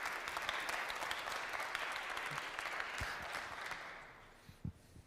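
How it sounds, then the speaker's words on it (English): A church class audience gives a welcoming round of applause for a guest speaker, clapping loudly at first and gradually thinning out, with a few scattered claps and a faint thump as it ends. "Let's give him a big round of applause."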